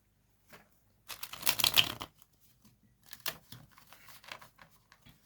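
A deck of cards is shuffled up close in a quiet room, with one dense riffling burst followed by softer, scattered flicks and taps.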